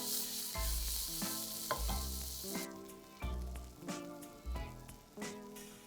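Onions and finely chopped tomato cook in a pan with a steady sizzle, broken by several stirring scrapes and knocks from a utensil, heard close and alone.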